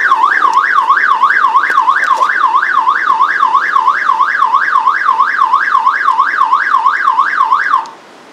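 A car alarm wails loudly and close by, a rapid up-and-down siren warble repeating steadily for about eight seconds before cutting off abruptly, with no talking over it.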